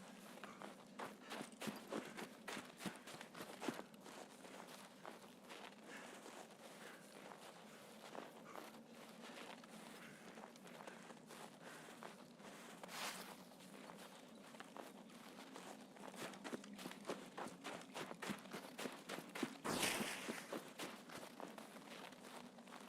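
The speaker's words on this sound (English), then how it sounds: "I bloody heard footsteps." Footsteps in the shooter game Escape from Tarkov, a long run of quiet, evenly paced steps on a woodland surface, faint and somewhat distant, with a louder shuffle near the end.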